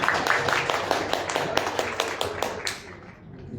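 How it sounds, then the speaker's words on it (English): A round of applause at a signing ceremony for a shareholders compact on sports, arts and culture in the Cape: a small crowd claps in a quick, uneven rhythm for about three seconds, then fades out, with faint voices underneath. "Can we clap the round of applause, please?"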